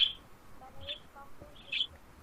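A small pet bird chirps in short bursts, three quick high calls spaced about a second apart over a quiet room.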